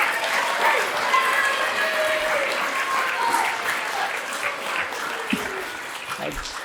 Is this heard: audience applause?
yes